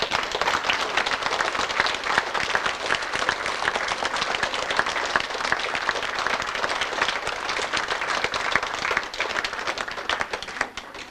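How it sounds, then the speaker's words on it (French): Audience applause at a community gathering on a farm during the Jeûne Genevois plum-tart celebration in Le Lignon, a steady, even patter of many hands clapping for about eleven seconds, moderately distant with no talk over it. "un applaudissement pour tout ce monde qui sont tout le temps là"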